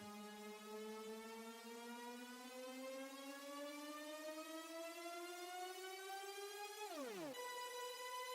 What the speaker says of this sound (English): This Jettison Steady Riser was from a James Egbert pack I got way back in the day.